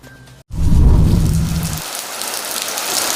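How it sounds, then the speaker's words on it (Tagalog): Heavy rain from Typhoon Florita pours down in Calasiao, Pangasinan, a loud, steady wash of rainfall that swells after a brief silence and keeps hissing densely with a deep rumbling undertone early on. "Dahil sa malakas na pagbuhos ng ulan dala ng bagyong Florita"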